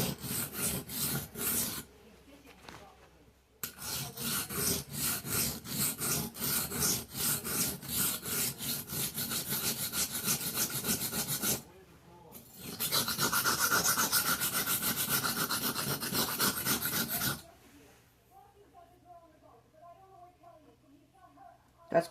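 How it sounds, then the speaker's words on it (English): A knife blade is stroked along a whetstone in steady, rhythmic rasping passes, long runs of close grinding broken by brief pauses, with faint talk near the end. "We're going to give it a little bit more of a sharpen."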